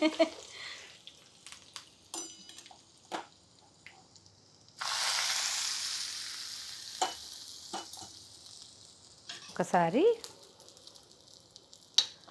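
Curry leaves sizzling in hot oil for a pulihora tempering in a pan: a sudden burst of sizzling swells and fades, mixed with scattered clinks and a voice speaking.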